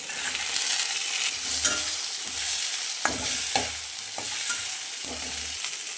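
Grated coconut frying in a pan for a chicken curry, a steady broadband sizzle with repeated spatula scrapes and stirring knocks close by, no voices.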